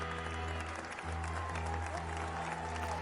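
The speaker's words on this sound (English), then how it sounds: "Please join me in a round of applause to welcome our contestants today." Applause and crowd cheering welcoming contestants onto a TV game show inside a fashion-themed video game, steady and continuous under constant low music.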